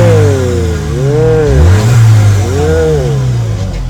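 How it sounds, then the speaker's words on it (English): A 2021 VW Polo GTI with a TSI engine revs loudly up close, two rising and falling rev swells over a steady idle, with no talk. "It's a TSI engine. So if I were to rev it a bit, you will feel"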